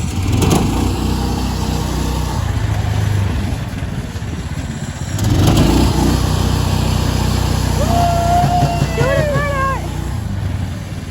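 A 15 HP go-kart engine revs hard while its tires spin uphill on a Ford Model A go-kart, a loud, continuous buzzing engine drone that surges midway, with voices talking over it.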